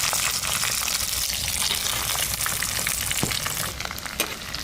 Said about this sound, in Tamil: காஜுவும் ப்ளம்ஸும் வறுத்தெடுக்க சூடாட்டும்.